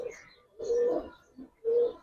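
Pigeons in a crowded loft of fancy colored breeds cooing in three close, soft bursts with short pauses between, a smaller murmur in the gap and no voices.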